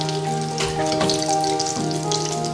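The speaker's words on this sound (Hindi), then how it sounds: "अब रोल्स को एग में डिप करेंगे और फ्राई कर लेंगे।" Egg-dipped chicken cheese rolls fry in oil, giving a continuous close bubbling sizzle with crackly spatter over a steady tonal hum.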